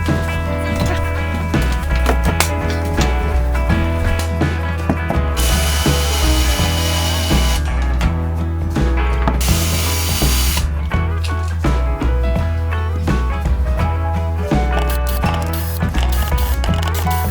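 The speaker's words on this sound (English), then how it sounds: "it's just as easy as screwing them down into place" A power driver sets screws for guitar wall hooks into pre-drilled holes in a wall, giving two steady whirring runs of a few seconds each over a continuous bed of background music.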